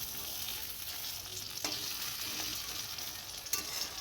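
Shrimp pakoras frying in hot oil, giving a steady soft sizzle and bubbling close by, with a couple of sharp scraping clicks as they are turned.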